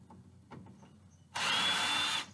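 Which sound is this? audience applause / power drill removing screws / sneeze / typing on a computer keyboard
power drill removing screws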